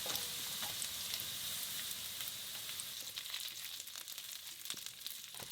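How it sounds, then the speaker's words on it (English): Minced garlic, onion and carrot fry in oil in a wok over medium heat, giving a continuous crackling sizzle with scattered spatters, moderately quiet and steady throughout. "Now we start to wok medium heat oil, minced garlic, the onion and carrot"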